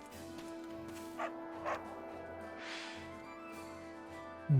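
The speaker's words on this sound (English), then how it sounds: "Dog!" A dog in Fire Emblem Warriors: Three Hopes barks two short, moderate woofs over steady game music, followed by a brief whimpering sound.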